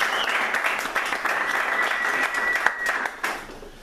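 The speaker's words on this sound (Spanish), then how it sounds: "un aplauso para Javier Bañeres" An audience at a poetry recital applauds Javier Bañeres: sustained clapping from a small crowd, fairly close, holding steady before tapering near the end, with a few voices mixed in.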